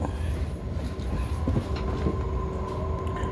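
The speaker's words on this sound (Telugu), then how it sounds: "డోర్ క్లోజ్ అయింది. నెక్స్ట్ బయలుదేరుతుంది మళ్ళీ ట్రైను." A Sydney city train pulling away after its doors close, a steady low rumble of the carriage with a faint rising motor tone, heard from on board with no talk.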